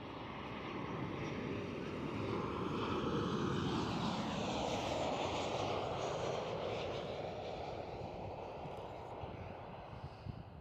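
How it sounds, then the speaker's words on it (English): A KLM Boeing 737 airliner at Schiphol, Amsterdam, roaring steadily and loud throughout with a broad engine rumble that swells slightly mid-pass and then eases off. "That's a KLM 737."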